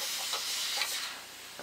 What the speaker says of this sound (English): So now the pressure is dying down quite a bit.